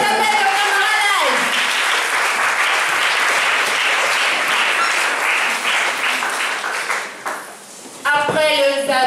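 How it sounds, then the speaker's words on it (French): Audience applause fills a school award ceremony, loud and sustained for several seconds, dipping briefly before swelling again, with voices over it at the start and end. "Applaudissez s'il vous plaît, Isabelle de Camaralai."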